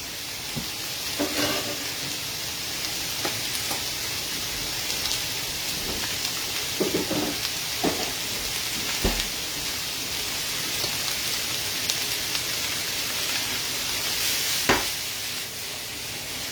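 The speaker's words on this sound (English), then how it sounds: "we're throwing in a tablespoon of butter" A tablespoon of butter sizzles in a hot pan while salmon fillet with alfredo sauce and vegetables is being cooked, giving a constant, fairly quiet hiss broken by a few light clacks of utensils.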